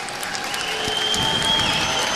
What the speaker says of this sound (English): Callum O'Hare gets a huge round of applause as he comes down to warm up